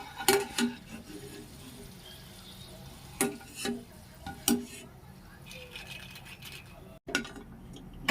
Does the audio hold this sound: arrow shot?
no